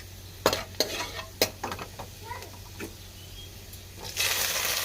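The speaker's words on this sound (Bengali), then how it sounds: "একটু লাল করে ভেজে নেব বেশি ভাজব না" Onions frying in oil in a wok, with sharp stirring clacks and scrapes over a low sizzle, then a louder, steady hiss swelling up near the end.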